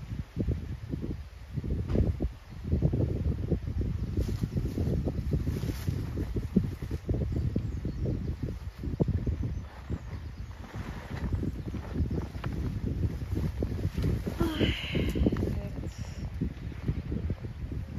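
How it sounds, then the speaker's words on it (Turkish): Wind blows outdoors in a continuous rushing wash that buffets the microphone, holding at a fairly even level throughout. "Ya bunu ne güzel esiyor."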